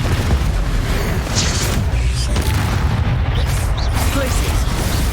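A loud, dense booming blast from the Confringo fire spell in Hogwarts Legacy, with a sustained rumbling roar and crackle filling the clip and a spoken voice over the game sound.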